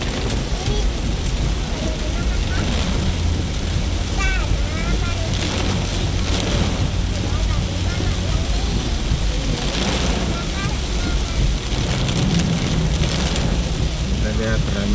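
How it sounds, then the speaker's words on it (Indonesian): Rain falling on the city of Madinah at midday, a steady dense hiss of rain with a low rumble underneath, continuous and loud throughout, with faint voices mixed in. "turun hujan."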